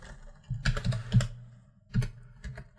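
Fingers type on a computer keyboard in short bursts of close, crisp key clicks with pauses between, heard without any talk.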